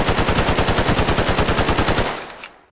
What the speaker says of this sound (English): you get the Brush Gun, which is automatic and uses the compact advanced rounds